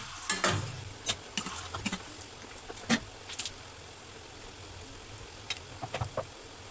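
Shankarpali fry gently over a low flame in a steel kadhai, with a quiet bubbling hiss in the oil broken by several sharp clinks and scrapes of a utensil against the pan.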